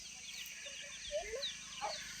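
Faint clucks and short calls from free-range chickens and roosters pecking at scattered grain in a farmyard at morning, a few scattered sounds against a quiet background.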